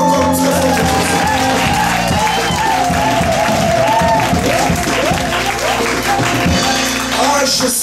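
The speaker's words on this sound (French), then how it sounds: "Acclame encore très fort." Loud, sustained applause and cheering from a church congregation, with shouts and whoops rising over a steady wash of clapping, backed by organ-like music throughout.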